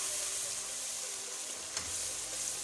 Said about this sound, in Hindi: अब इस मसाले को अच्छे से भूनते हैं।